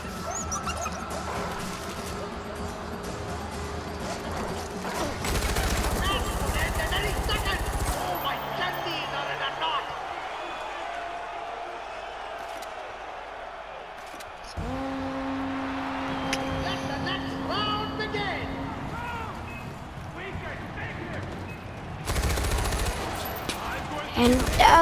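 Gunfire in Far Cry 4 comes as bursts of shots and rattling fire scattered through a long stretch of game sound, with someone talking over parts of it.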